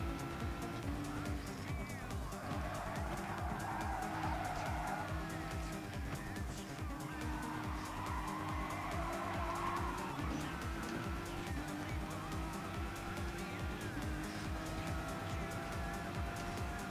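Race car engines drone steadily and shift pitch in a racing video game at the Nürburgring GP circuit, with tire squeal rising above them, continuous and fairly faint, and a voice talks now and then.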